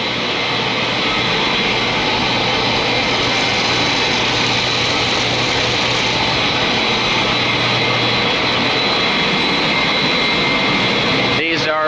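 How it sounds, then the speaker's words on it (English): Steam is blown down at the low spots of a steam turbine generator's condensate line, a loud, steady roaring hiss held close for the whole stretch, cutting off abruptly at the end. "Give a little blow down on the low spots here."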